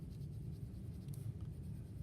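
A paper bunny cutout is colored in by hand, with a soft, continuous scratchy rubbing of a coloring tool on paper, close and quiet, steady over a couple of seconds without talking.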